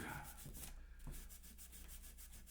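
Light buffing of the frets on a bass guitar, a steady soft rubbing hiss with a few faint low knocks, close and continuous throughout.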